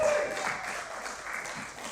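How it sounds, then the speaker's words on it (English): A church congregation claps after being invited to applaud, a brief, moderately loud wash of many hands with an even texture and no voices on top. "Go on, give him a round of applause."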